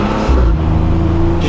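A 350 BHP BMW engine accelerating, a loud close rising engine note that swells quickly and holds strong over a low rumble.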